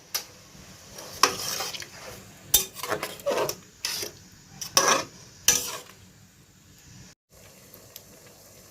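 Raw papaya pieces, boiled beforehand, being stirred in sugar syrup in a pan for homemade tutti-frutti candy: repeated scraping and clinking strokes of a spoon against the pan, irregular and close, with quiet gaps between bursts.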